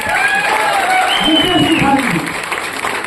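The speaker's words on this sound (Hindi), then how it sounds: "जोरदार तालियां करिए।" An audience gives a burst of applause at a leadership talk, clapping that stays under loud speech and continues throughout.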